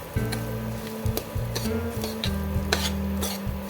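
Wheat rava is stirred and roasted in ghee for kesari, with repeated scraping strokes of a spoon against the pan over a continuous light sizzle, close and rhythmic.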